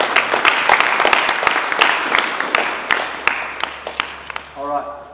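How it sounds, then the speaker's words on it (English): An audience at a house celebration gives a round of applause, scattered claps over a crowd murmur, with a voice speaking near the end. "give him a round of applause"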